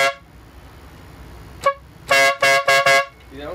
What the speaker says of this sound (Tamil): நட்லஸ் டைப் ஆரனு, டபுள் ஹாரன் டைப்பு,